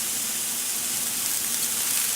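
Frozen kale hisses and sizzles in hot oil in a T-fal Viva non-stick pan, a close, continuous broadband frying hiss with no clear stirring strokes and no talk.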